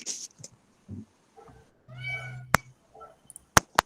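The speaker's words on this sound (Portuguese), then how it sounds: "Tem um gatinho de alguém aí." A pet cat meows several times at home, a drawn-out harmonic call near the middle with shorter mews around it, fairly close, while a few sharp clicks and brief background noises break in.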